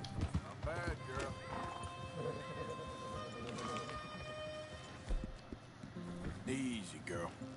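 Rhythmic hoofbeats clop under a horse's repeated whinnies and snorts, close and fairly loud, with a voice talking over them.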